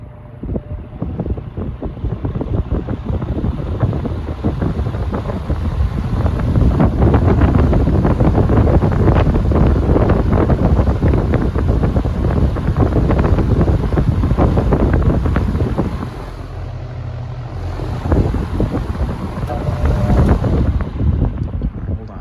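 A Vornado fan runs on its low setting with a broad, steady whooshing airflow rush, loud and close, dipping briefly before surging back.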